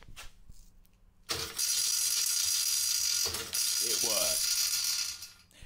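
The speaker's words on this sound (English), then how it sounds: "that's the sound of my sprocket not being centered properly" An 1800W electric drift trike whose off-centre sprocket rattles, a loud steady whirring clatter that starts abruptly and keeps running with a brief dip, under a short spoken remark.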